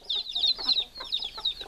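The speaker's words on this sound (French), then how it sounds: "Le coq qui a voulu saillir une poule qui a déjà des poussins, c'est un peu nul." Chickens squabble in a permaculture garden as a rooster tries to mount a hen that has chicks, giving quick, faint, agitated clucks and squawks in short bursts.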